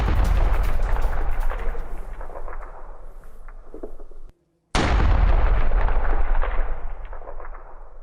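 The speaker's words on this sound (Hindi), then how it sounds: "इधर गाजा के राफा में आईडीएफ के हवाई हमले, हमास का एक रॉकेट गोदाम तबाह।" IDF airstrike explosions hit a Hamas rocket depot in Tel al-Sultan, Rafah, Gaza, as a loud, continuous rumbling roar with a brief silent break in the middle.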